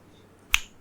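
A single crisp finger snap rings out once, loud and close, after a short stretch of near silence, its sharp crack fading fast.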